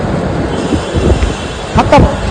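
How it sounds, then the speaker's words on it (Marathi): A train pulls out of Gaikwad Green station bound for CST, a low rumbling roll with a brief squeal of wheels near the end, loud and close. "ट्रेन सुटाय"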